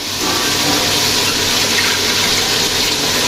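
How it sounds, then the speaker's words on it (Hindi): Water is poured steadily into a pot of chicken and tinda masala curry, a loud, close, continuous splashing gush lasting a few seconds with no talk. "अब मैं थोड़ा सा इसमें ना पानी डालूँगी"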